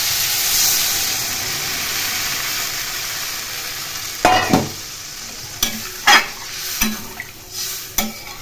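Water is poured into a Bengali hilsa fish curry with ridge gourd and potato, bringing a steady hiss and sizzle, then several sharp scraping stirs of a spoon against the pot in the last few seconds.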